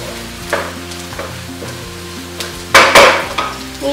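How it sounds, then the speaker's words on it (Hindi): Paneer frying in a pan with onion, chili, tomato and bay leaf, a loud close sizzle broken by sharp stirring scrapes and clinks, with a strong burst of sizzling near the end. "यहाँ पर पनीर हमारे फ्राई हो रहे हैं"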